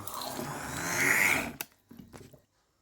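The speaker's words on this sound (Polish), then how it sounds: "Całość blendujemy." An immersion blender purees eggplant cream soup, a loud whirring buzz rising in pitch for about a second and a half, then cutting off, followed by a few clunks and scrapes before silence.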